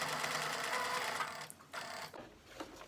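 A sewing machine stitches fabric for a tote bag with a steady mechanical whir that stops briefly, then resumes in shorter, quieter runs, heard close and without talk.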